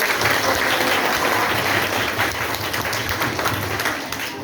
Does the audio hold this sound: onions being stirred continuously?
no